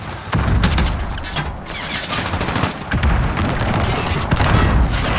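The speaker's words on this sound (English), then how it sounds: "Enemy precision airstrike." A precision airstrike in Call of Duty: Modern Warfare, during AC-130 gunship play, brings a loud, continuous barrage of booming explosions and rattling gunfire layered densely together with almost no pause.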